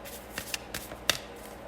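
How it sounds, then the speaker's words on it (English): Tarot and oracle cards are shuffled by hand at close range, a series of soft riffling taps and sharper card snaps in an irregular rhythm, quiet and alone without talk. "But as always, I go ahead and shuffle live."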